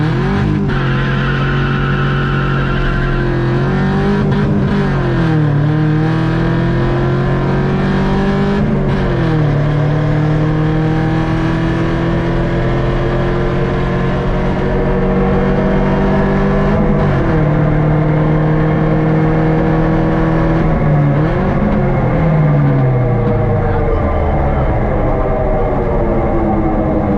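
A rear-wheel-drive Subaru, converted from all-wheel drive, accelerates hard at a radar run event, its engine note rising through several gear changes in a loud, continuous, close-up roar.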